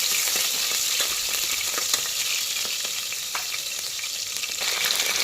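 Onion fries in a pan, roasting toward brown for avarekalu bath, a steady close sizzle with scattered crackles and faint stirring clicks, with no voices.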